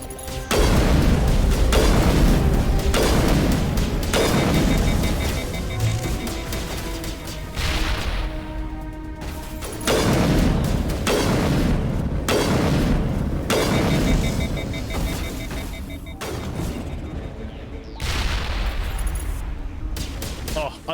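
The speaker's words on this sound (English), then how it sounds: "I'm loving the grenades in this game, by the way." Grenades exploding in a Mass Effect firefight, a string of loud booming blasts with gunfire-like crackle repeating across the whole stretch, dense and close, with a few brief gaps between bursts.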